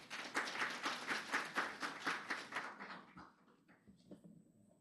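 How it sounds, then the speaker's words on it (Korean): An audience at a presentation claps together in brisk applause for a speaker for a few seconds, then it quickly thins out and fades to near silence. "큰 박수 부탁드리겠습니다"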